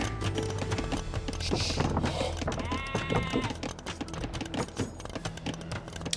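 Sheep in the Age of Empires II video game let out a clear, wavering bleat amid busy game sounds, including hoof-like clip-clops and scattered clicks, fairly close and moderately loud.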